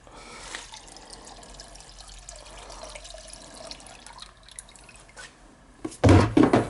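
Heating oil trickles slowly through a filter into a new oil tank, a soft, continuous dribbling and gurgle close by, ending in a louder splashy rush of liquid.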